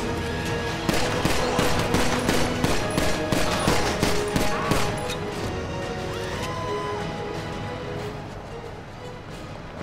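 Gunfire in an animated game scene, dense crackling volleys mixed with crashing impacts, steady and close for several seconds before easing slightly.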